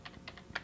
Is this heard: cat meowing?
no